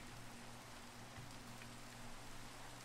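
Rain falling in a video game set in a swamp, a soft, steady hiss of rainfall that stays faint and even throughout with no voices.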